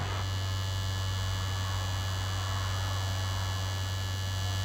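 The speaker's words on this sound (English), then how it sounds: "It is a curious humming sound that seems to come from inside the object" Curious steady humming said to come from inside a Martian object in a War of the Worlds radio drama, a loud unbroken drone with a deep hum and dense hiss, unchanging throughout with no voices.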